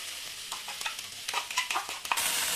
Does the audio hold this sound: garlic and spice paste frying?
yes